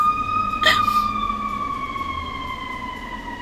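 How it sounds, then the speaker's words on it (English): A fire engine siren wails in the background, a steady pitched tone with harmonics that slowly falls in pitch, plus a brief louder burst near the start, over a low rumble. "Don't mind the sirens going on in the background."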